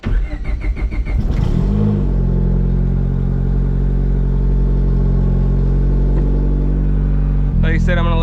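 A fully built single-cam Honda D-series turbo car engine cranks briefly, catches and settles into a loud, steady, close-up idle that runs without a break to the end.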